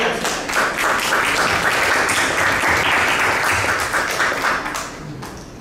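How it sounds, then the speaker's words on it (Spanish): An audience at a book event gives a loud, sustained round of applause with dense clapping that holds steady for several seconds. "Un aplauso."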